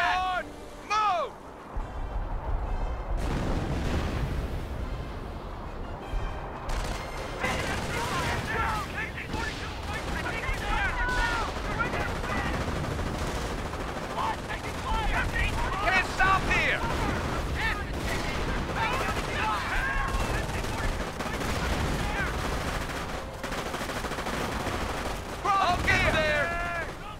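Heavy gunfire and booming artillery blasts fill a Company of Heroes battle on a causeway, continuous and dense, with voices shouting orders over the combat.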